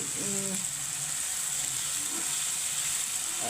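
Spices for an egg and cauliflower curry sauté in a pan with a steady, soft sizzle and hiss close by, while a voice speaks briefly.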